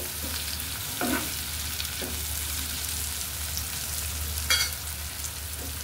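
Chopped tomato hitting hot oil with frying onions for a katla fish do-pyaza, a steady close sizzle broken by a few spoon-scrape and clatter stirring sounds, no talking.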